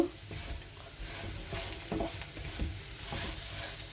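Fried potatoes with poppy seeds being stirred in a pan, a soft steady sizzle with scraping strokes of a spatula repeating every half second or so, close and moderately quiet, no talk.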